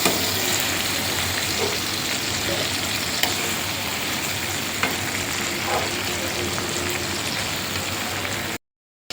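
Bilimbi pieces frying in oil for pickle make a dense, steady crackling sizzle close by, with a few small taps of a utensil, before cutting to sudden silence at the very end.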